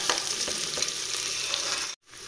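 Onions fry in a pressure cooker for chicken biryani, a dense steady sizzle with small crackles that drops out abruptly near the end before resuming.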